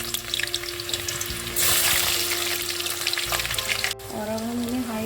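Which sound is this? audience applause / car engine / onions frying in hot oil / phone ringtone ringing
onions frying in hot oil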